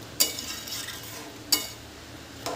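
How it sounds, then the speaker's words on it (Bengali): A spoon scrapes through a potato, paneer and fried soybean curry in a pan, with three sharp clinks of utensil against metal over a soft background sizzle. "সব কিছুকে এবার ভালো করে একটু নাড়াচাড়া করে নিচ্ছি।"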